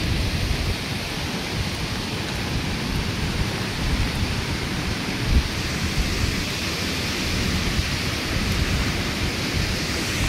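Heavy rain pours in a dense, unbroken roar near the flooding Ghod River in India, with a low rumble of thunder underneath and no voices.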